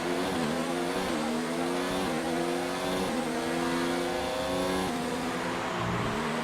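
Race car engines in the F1 2019 video game at Bahrain whine continuously at high pitch, with repeated gear-shift steps rising and falling as the car accelerates, steady and loud with no talk.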